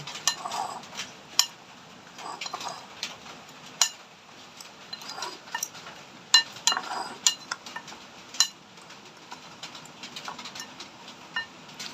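A spoon scrapes and clinks irregularly against a bowl while ingredients are stirred together with sugar for paratha dough, producing sharp intermittent taps over a faint background, no talking.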